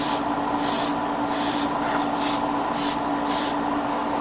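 Repeated short bursts of spray paint aimed at a Gundam model kit part from a distance, about six evenly spaced hissing pulses over a steady background hum, with no talking.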